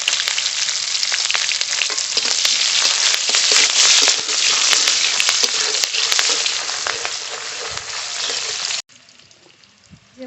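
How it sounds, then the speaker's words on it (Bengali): Chopped onion hitting hot oil with bay leaf and nigella seeds for a prawn malai curry, a loud, dense, steady sizzle of frying that drops away abruptly near the end, leaving only faint kitchen noise. "ওটা পেঁয়াজ কুচি দেব।"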